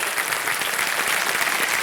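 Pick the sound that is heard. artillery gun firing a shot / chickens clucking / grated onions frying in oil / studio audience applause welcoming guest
studio audience applause welcoming guest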